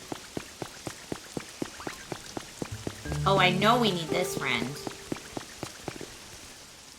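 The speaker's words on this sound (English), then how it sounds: "Yay, it's raining." Rain patters in the Pokopia video game as evenly spaced drips tick steadily, while a voice speaks briefly partway through.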